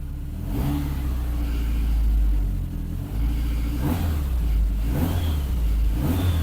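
A Saab 9-5 Aero's engine revs under throttle with a deep, rumbling drone that swells and dips over several seconds, steady and close, with no voices.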